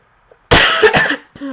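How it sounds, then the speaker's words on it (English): A person coughs in a close, harsh burst of several rapid coughs following a brief faint throat sound, then stops with a short voiced sound at the end. "For some odd reason, I'm all of a sudden starting to cough."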